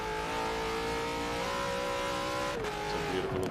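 A V8 Supercars race car at Bathurst on a qualifying lap, its engine droning steadily at high revs with a pitch shift partway through as it changes gear or passes, loud and continuous without talk.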